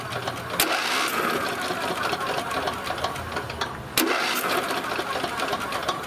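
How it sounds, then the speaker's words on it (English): A John Deere lawn tractor's small engine being cranked over, a steady rapid mechanical chatter that restarts after a brief break, fairly loud and close. "So I'll turn the engine over to see if these open and close."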